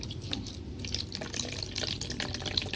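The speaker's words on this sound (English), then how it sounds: "When the water is enough, the water will be come out from the water overflow hose." Water flows steadily out of the overflow hose of an OPT SHR hair removal machine, a soft continuous trickle and splash with small drips, close by and fairly quiet, with no talking.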